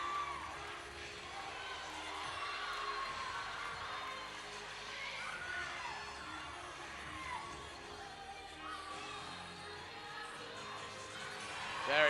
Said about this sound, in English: Crowd seems to like it too.